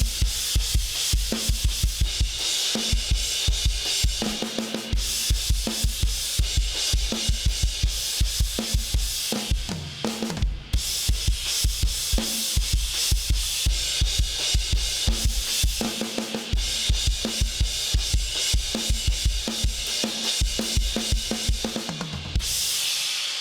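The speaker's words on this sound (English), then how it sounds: "And then we go into this super heavy half-time kind of feel." A drum kit plays a heavy half-time groove with crash cymbal, in a lesson on a song; steady loud hits with continuous cymbal wash, a brief pause near the middle, no talking.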